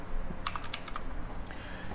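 Quick clatter of typing on a computer keyboard, a short burst of nearby key presses over a faint room hum.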